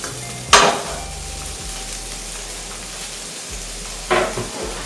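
Bacon and garlic sizzle gently in olive oil in a pan over moderate heat for spaghetti carbonara, a steady soft crackle with two brief sharp clinks or stirring scrapes, no talk.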